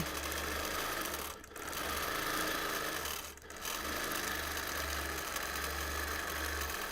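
A sewing machine runs steadily while free-motion quilting flame shapes onto a T-shirt quilt, a loud, close, continuous hum that dips briefly twice.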